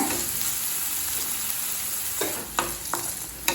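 Vegetables for street-style mushroom fried rice sauté over high flame in a pan, a steady close sizzle with a few sharp stirring scrapes and clinks toward the end.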